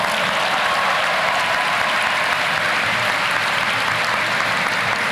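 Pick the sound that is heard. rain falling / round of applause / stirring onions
round of applause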